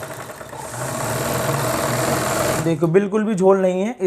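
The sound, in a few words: sewing machine stitching fabric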